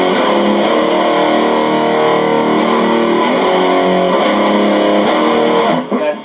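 A heavily distorted electric guitar plays a sustained riff, using barred and open notes on the top two strings. It is loud and close and cuts off near the end.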